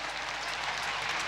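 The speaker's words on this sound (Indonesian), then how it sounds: "Tepuk tangan untuk perempuan HKBP." Audience applause for the HKBP women at the church's 150th jubilee celebration in 2011, a dense, steady patter of many hands in a large hall, moderately loud and continuous without any voices.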